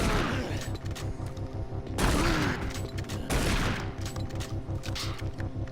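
Shotgun blasts against a pack of zombies in Doom 3's Mars Underground, with loud booming shots around the two- and three-second marks over a dense, rumbling game soundscape.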